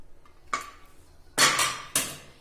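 A pressure cooker lid holding bajra khichda is handled and opened, giving a sharp metallic clink followed by two louder scraping clatters of metal against metal, close and brief.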